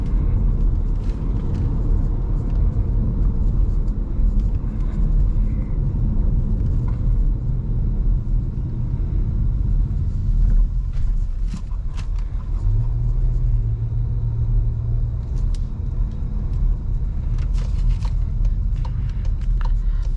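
Škoda car cornering on the road, a steady low rumble of engine and tyres heard from inside, constant and fairly loud with faint clicks and a brief tonal hum partway through.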